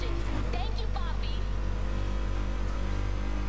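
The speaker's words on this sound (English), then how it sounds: "I love the sound of this engine." A car engine in the video game Need for Speed Heat idles with a steady low rumble at an underground stance meet, while a voice talks over it near the start.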